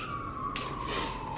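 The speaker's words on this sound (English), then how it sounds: "Ignore our ambulance friends, they're just trying to get people to and from the hospital." An ambulance siren passes outside, a faint, steady wailing tone that drifts slightly lower, distant and muffled beneath the room's background noise.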